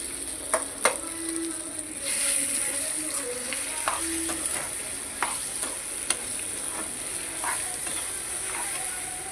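Coconut mango pickle is stirred into sizzling tempering in a pan, with a continuous hiss of frying oil and scattered scraping clicks of the spoon, close and moderately loud, with faint voice in the background.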